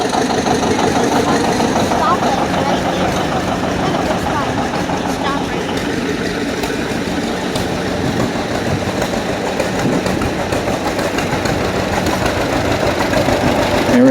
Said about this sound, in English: 1955 70 diesel, also from Eric Arndt's collection.